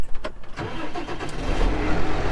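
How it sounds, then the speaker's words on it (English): A grain cart tractor, a Case IH Magnum, cranks and fires up on a farm, its diesel engine catching and settling into a steady loud rumble close by. "Let's go ahead and start up this grain cart tractor."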